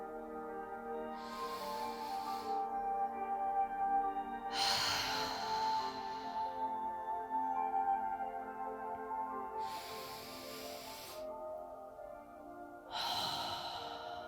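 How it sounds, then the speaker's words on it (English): Three slow, steady in-breaths during a guided meditation, with soft airy inhalations spaced several seconds apart and drawn close to the microphone, no talk over them. "you take 3 slow and steady breaths in"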